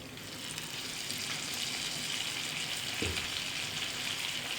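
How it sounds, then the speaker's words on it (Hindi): Fish frying on its second side in a pan over a low flame for fish curry, giving a steady bright hiss and sizzle throughout with one brief low knock partway through. "दूसरी साइड से भी फ़िश को पकते हुए।"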